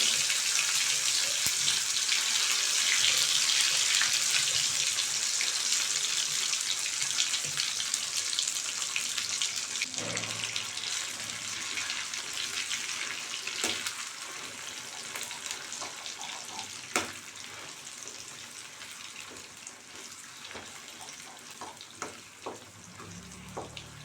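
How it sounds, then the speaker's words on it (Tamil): Mustard seeds crackling in hot oil for tempering, a dense steady frying hiss that runs throughout, close and fairly loud, with a few sharper pops near the end as the seeds splutter. "கடுகு நல்லா பொரியும்"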